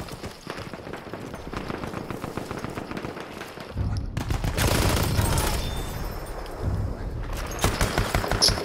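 Burton LMR rifle fire in a first-person shooter game set on Achi Baba, with rapid repeated shots and gunfire clatter that grows louder partway through, layered with battle noise.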